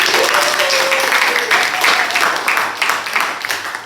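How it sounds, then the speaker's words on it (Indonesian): Applause from an audience at a school group presentation, a continuous wash of clapping with a faint voice or tone briefly audible beneath it. "Beri tepuk tangan sekali lagi"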